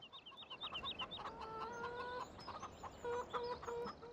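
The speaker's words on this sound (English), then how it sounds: "That chicken noise right there?" Farming Simulator 17 chickens clucking in a game farmyard, a run of short, rhythmic bird calls followed by sustained tonal clucks and squawks, moderately loud with no talking.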